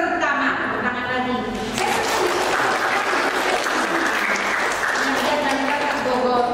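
Audience applause at an Indonesian-language seminar on the Lampung language, a sustained burst of clapping filling the hall with a few voices mixed in.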